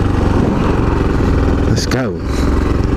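A motorcycle engine revs loudly and close with a pulsing throb, dropping briefly in pitch as the rider sets off, under a short spoken phrase.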